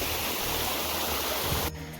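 Irrigation water rushes and gurgles steadily through a channel in a soybean field, close and continuous, with the flow noise easing slightly near the end.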